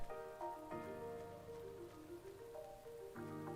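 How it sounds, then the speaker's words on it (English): Rain falling in the video game Blue Reflection, a soft, even patter that runs throughout beneath louder sustained musical tones. "Oh wow, look at the rain. It's actually really coming down."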